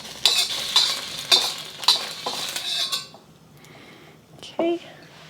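Cooked beef spooned out of a wok back into a bowl, producing four or five sharp metal-on-ceramic clinks in quick succession, then a quieter stretch with one last clatter.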